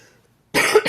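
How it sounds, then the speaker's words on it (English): A short cough bursts out after a second of near silence, one loud close hack followed by a smaller second cough, from someone showing off the season's first home-picked tomato. "I have a little bit of a cough"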